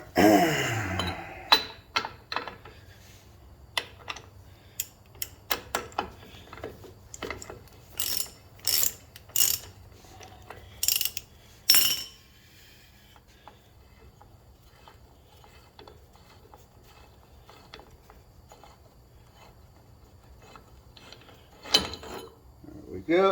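A ratchet fitted with a small socket turns on a hub in quick bursts of sharp clicking, close by, with short pauses between strokes. A few faint clinks of metal follow.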